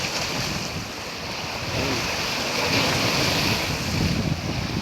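Strong sea waves crash and splash against the rocky shore of Dammam Corniche, a continuous loud roar of surf with wind buffeting the microphone, swelling slightly toward the end, with no voices.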